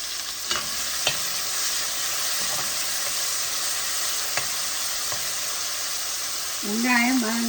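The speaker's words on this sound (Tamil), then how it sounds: "வெங்காயம் வதங்கட்டும்." Sliced onions sauté in hot oil for a Jaffna-style eggplant curry, giving a loud, continuous sizzling hiss. Occasional light utensil clicks break through, and a voice briefly speaks at the very end.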